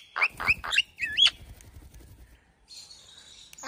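A myna bird gives a quick run of sharp, whistled chirps close by, then a longer rising call, followed by quiet with faint high tones.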